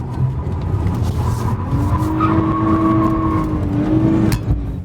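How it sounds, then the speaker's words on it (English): A BMW drifting on a course with its tires squealing in long, wavering tones over a steady, loud engine and road roar. "And then Victor, drift battle."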